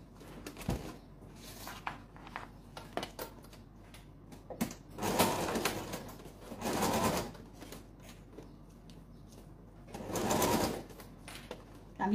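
Sewing machine stitching a folding fabric pouch, short bursts of whirring stitching separated by pauses with quiet handling clicks and rustles, fairly close.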